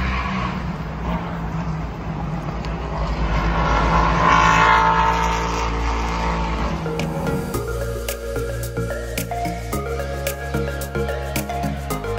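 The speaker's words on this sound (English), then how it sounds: "we're going to be taking one of our team Toyota Siennas down" Engine and road noise from a team Toyota Sienna minivan driving toward Road Atlanta, a steady loud rumble that swells and then turns rougher and more rhythmic partway through, with no talking.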